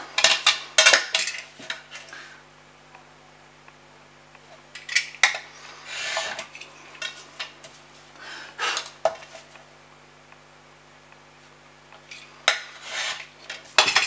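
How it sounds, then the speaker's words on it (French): A craft knife slices paper along a ruler, with scraping strokes and light clicks and taps of tools on a table, coming in short separate bursts between quiet pauses, close and fairly faint. "Et je coupe, je vais le faire à la règle, avec mon cutter"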